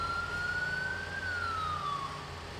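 A police siren in the video game GTA 5 wails steadily as a single rising and falling tone, fairly faint over a low engine rumble, with no talking.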